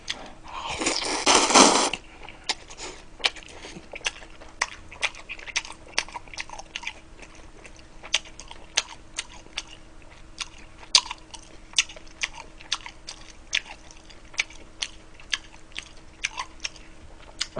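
Close, crunchy chewing of hard, spicy-sauced Korean sweet and sour pork (tangsuyuk) from a Chinese takeout order, a loud burst at the start followed by steady, sharp bites and crunches in an irregular rhythm.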